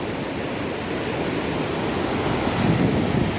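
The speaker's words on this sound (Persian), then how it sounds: "شرشره زیاد" A mountain waterfall roars as a steady broadband rush of falling water, loud and close, with a slight swell near the end and no voices.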